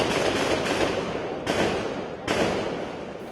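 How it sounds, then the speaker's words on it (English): Gunfire during an attack by gunmen in Gurdaspur sounds as a dense, continuous crackle of shots. Sharp bursts hit about every second and a half, loud and harsh, with no voices. "Sound of gunfire woke up residents of Gurdaspur this morning"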